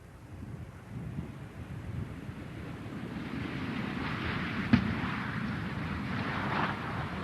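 Space Shuttle Discovery rolling down the runway after main gear touchdown, a steady broadband roar of wind and rumble with one brief sharp crack midway, continuous and fairly loud throughout.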